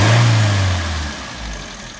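Suzuki Swift engine with its mass airflow sensor unplugged, revved up close so the induction roars loudly, then the engine note eases back and hums steadily, with no voices.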